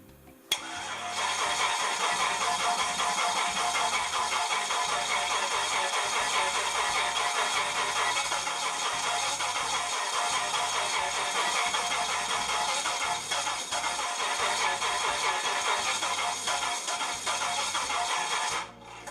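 An engine being cranked on a starter motor, a continuous rapid whirring churn that runs steadily for most of the span without catching, then cuts off abruptly; no talking.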